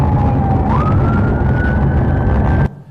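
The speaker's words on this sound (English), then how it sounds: "With sirens blaring, sheriff's deputies and local cops finally stopped the driver on a dirt road." Police car siren wailing loudly during a chase after a wanted suspect's pickup truck, a steady rising tone over heavy road and engine rumble, close and continuous before cutting off abruptly near the end.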